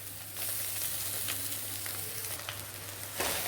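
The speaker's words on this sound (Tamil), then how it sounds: "இப்போ சாதத்தையும் சேர்த்தாச்சு, லைட்டாக கிளறி விட்டுக்கிறணும்." Cooked rice and soy sauce for chicken fried rice hiss softly in a hot pan as they are stirred, a faint, steady sizzle with light scraping and no talking.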